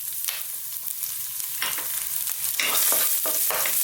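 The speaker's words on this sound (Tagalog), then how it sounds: "Magigisa po tayo ngayon." Garlic sautéing in hot oil in a home kitchen pan, a continuous close crackling sizzle that swells louder near the end, punctuated by stirring scrapes.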